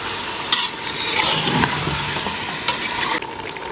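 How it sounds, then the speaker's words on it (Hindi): Chicken fries in a pan with garlic, ginger and green chilli paste while being stirred, giving a continuous close sizzle and crackle with scraping stirs throughout and no talking. "अब इसके अंदर लहसुन अदरक और हरी मिर्च का जो पेस्ट बनाया हुआ था ना वो डालूंगी"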